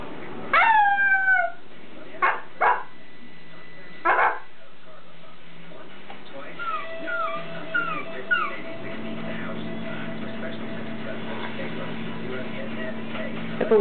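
A person imitates a wolf howl with several rising, wavering vocal howls in short bursts, followed by quieter whining, tonal sounds and a low drone, with no other talk.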